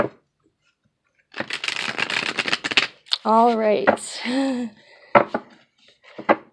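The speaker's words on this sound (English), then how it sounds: "One more shuffle." Tarot cards being shuffled by hand make a dense papery rustle lasting about a second, close and fairly loud, before a person begins talking.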